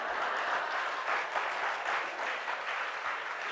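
Audience at a morning yoga satsang breaking into steady, dense applause, many hands clapping together at an even level throughout with no talking over it.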